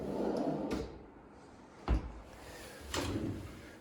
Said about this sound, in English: The drawers are soft close